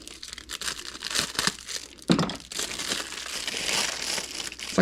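Plastic bag packaging of a spark plug O-ring being handled, close irregular crinkling and crushing with a sharp crackle midway and steady rustling after.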